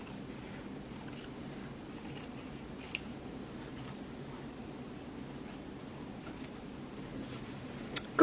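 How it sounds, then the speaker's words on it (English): Scissors snip through fabric in a quiet sewing room, a sparse scatter of soft, close cuts and rustles with a louder clack at the very end. "we'll cut this one out"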